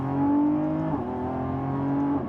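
A Lamborghini Revuelto engine drones and climbs in pitch under full-throttle acceleration, with a brief dip like a gear change midway before rising again.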